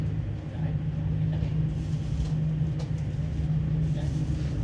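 An Alaska Railroad passenger train travels through snowy winter forest, heard from inside as a steady low rumble with a constant hum and faint rattles, while a person talks over it.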